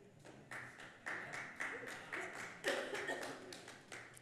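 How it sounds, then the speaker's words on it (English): A few people clap sparsely, separate hand claps spaced out in an indoor room, with a voice speaking over them. "And a few people clapped."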